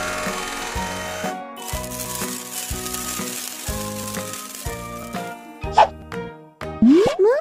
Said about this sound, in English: Fill it up with sand.